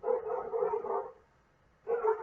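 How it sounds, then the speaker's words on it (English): Two Aussiedoodle dogs bark from downstairs in a house, sending out two bursts of rapid, overlapping yaps separated by a short pause, moderately loud and slightly distant. "I have two Aussie doodles downstairs barking."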